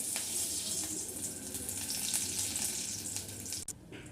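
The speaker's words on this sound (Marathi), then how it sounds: "दोन चमचे तेल घ्यायचे आहे मोहरी जिरे चार ते पाच कडीपत्त्याची पाने" Mustard seeds, cumin and curry leaves sizzle steadily in two spoons of hot oil, a close, continuous frying crackle that holds for several seconds before a brief clatter near the end.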